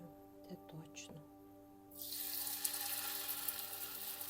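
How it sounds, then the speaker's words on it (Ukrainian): Potato pancakes start frying in hot oil in a covered pan, a sudden loud sizzle bursting in midway and holding steady after a few quiet clinks and a brief voice. "Але ви знаєте, я буду жарити під кришку."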